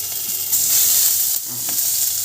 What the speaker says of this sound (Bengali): প্রথমে আমি এই রসুনটা দিয়ে দেব